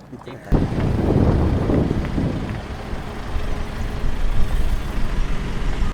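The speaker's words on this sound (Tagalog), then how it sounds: "Ayan na yung sasakyan natin." An outdoor vehicle approaching with a rumbling engine and heavy wind noise that swells after a quiet start, with people talking nearby.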